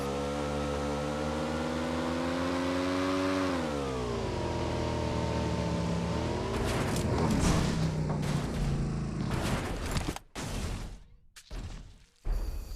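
A motorbike engine in a battle royale video game drones steadily and then shifts pitch as it revs and pulls away, followed by thumps and abrupt bursts of impact noise.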